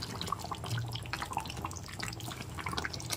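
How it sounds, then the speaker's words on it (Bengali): Fish curry made with silver carp simmers in a pan, giving a steady, soft bubbling with small pops and drips, faint and continuous with no talk over it. "এবার 2 মিনিট ফুটিয়ে নিচ্ছি।"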